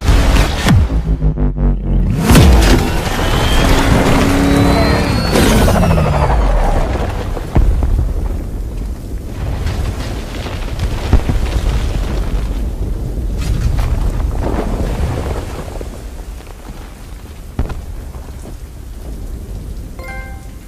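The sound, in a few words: explosion in Batman: Arkham Knight video game cutscene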